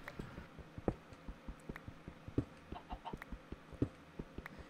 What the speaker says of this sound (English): there's a few chickens, which means we can get some arrows